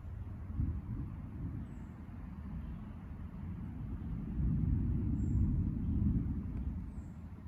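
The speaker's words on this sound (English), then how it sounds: "Oh, thunder." Low rolling thunder from a developing summer storm, a faint continuous rumble that swells midway and then eases, heard alone at a distance.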